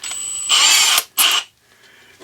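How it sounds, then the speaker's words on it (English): Power drill running a Milwaukee bit through a workpiece, two loud bursts of drilling with a short pause between, close and alone. "Let's try one of the other drill bits just to see."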